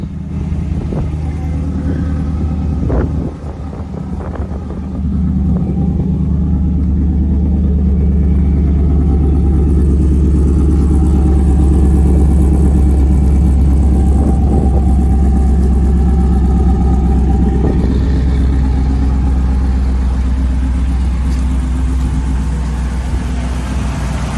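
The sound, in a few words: cammed Ram Hemi truck engine running after oil change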